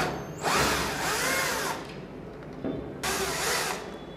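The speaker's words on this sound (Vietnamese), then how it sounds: "Sau đó, dùng khoan bắt vít" A power drill whirs in two short bursts while backing screws out of a hinge on a toilet door, close and fairly loud, with a pause between runs.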